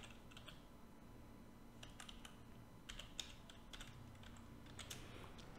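Fingers tap out text on a computer keyboard, with irregular bursts of soft, close keystrokes and short pauses between them, quiet and with no voices.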